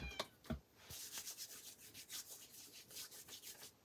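Fingertips rub ink off skin after a craft project, giving soft, quiet repeated scrubbing strokes in a steady rhythm, close by, with a couple of sharper brushes at the start.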